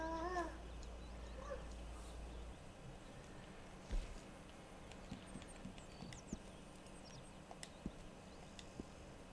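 A cat meows a few short times near the start, over a background of horse hooves clip-clopping and ambient noise during a Red Dead Online session, with faint scattered knocks afterward.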